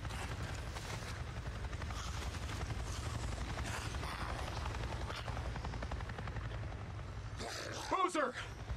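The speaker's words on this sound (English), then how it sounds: "It's a helicopter, dude. It just buzzed right over me." A helicopter from the video game Days Gone passes overhead with a steady low rotor drone that fills the whole stretch, ending in a brief louder burst near the close.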